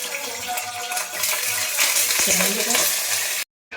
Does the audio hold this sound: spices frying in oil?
yes